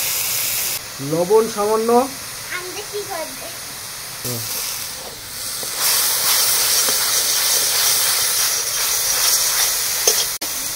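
Onion paste hissing as it hits hot oil in a pan while a Bengali mustard fish curry is cooked, with a steady broadband sizzle that swells louder midway; a voice speaks briefly near the start.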